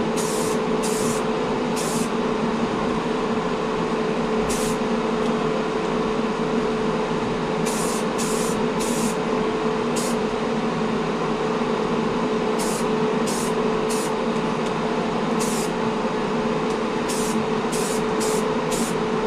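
Primer paint sprays from an aerosol can onto a scale model in a steady, continuous hiss lasting well over fifteen seconds, close and even in level, broken only by faint clicks.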